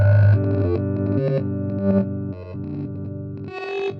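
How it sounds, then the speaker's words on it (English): A guitar runs through a glitchy skipping delay pedal with its cut knob cranked fully up. Distorted held tones break into stuttering, repeating fragments that build into an ominous, demonic feedback, loud and close, with no voices. "it creates a demonic type of feedback."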